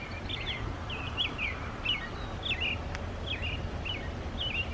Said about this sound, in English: These mockingbirds, they sit up in the tree and then they imitate every single bird